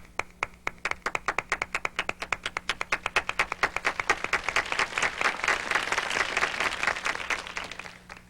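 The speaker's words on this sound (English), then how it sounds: "I wonder what it would sound like if we could hear everybody clapping." Many people clapping together as applause at a circus-themed show, starting as separate claps and swelling into a dense, continuous ovation that stays loud to the end, with no talking over it.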